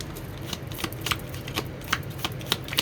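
A deck of cards being shuffled during a tarot card reading, giving a soft papery rustle with a few sharper riffle clicks spread over a few seconds, fairly quiet and with no talking.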